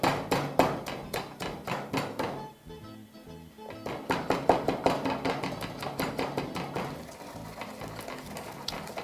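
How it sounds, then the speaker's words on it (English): Garlic pounded with a pestle in a mortar, a steady run of close, sharp thuds repeating in quick rhythm with a brief pause midway, heard alone without talk. "grind those in the pestle and mortar. Be sure to start by pounding your garlic a little bit."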